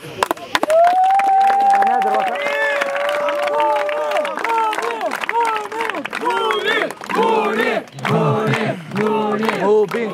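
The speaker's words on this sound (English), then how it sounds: "Give a round of applause." A crowd at an evening campfire gathering cheers and shouts loudly, with yelled voices and whoops dominating over scattered clapping throughout.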